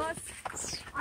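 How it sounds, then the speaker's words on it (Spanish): A pack horse's hooves clop on hard ground in a short burst, with people talking over the steps. "El caballo de carga."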